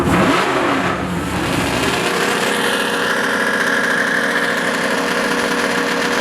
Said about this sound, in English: John Mankia's Chevy Camaro taking on Tim Bauer out of Seaford in the Chevy Nova.